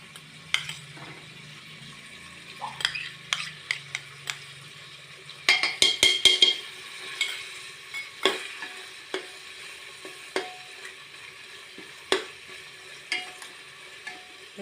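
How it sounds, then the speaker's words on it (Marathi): Ginger-garlic paste fries in a pan for masale bhat, a low soft sizzle under scattered scraping and stirring knocks of a spoon against the pan, with a brief cluster of louder stirring midway. "आता हे सगळं मस्त भाजून घेऊया."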